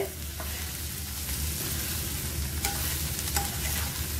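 Eggplant, garlic and onion sauté in a pan with a steady close sizzle and fry, broken now and then by the scrape and clink of a spoon as the pieces are stirred.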